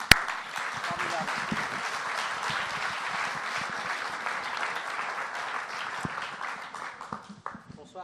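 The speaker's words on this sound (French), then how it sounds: "Je crois qu'on peut applaudir parce que c'est vraiment formidable." Audience applause fills an evening talk and film screening at the Institut du monde arabe, a dense, steady roar of many hands clapping for the full length and tapering near the end.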